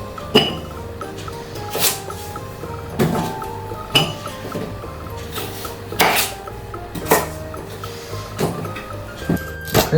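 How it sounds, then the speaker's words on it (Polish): Cut sweet potato fries dropped into a bowl, a run of roughly nine sharp clattering knocks and clinks at fairly even intervals, close and fairly loud, with a faint kitchen hum beneath and no talking. "I od razu sobie przerzucamy pokrojone frytki do miski."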